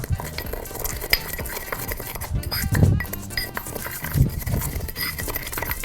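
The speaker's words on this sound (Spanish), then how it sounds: "Mire, estoy machacando muy bien todo contra el ajo." Garlic is crushed with coarse salt in a kitchen, producing repeated grinding and scraping with light clinks of utensil against bowl. Two heavier thuds stand out, and the sounds are moderately close and steady.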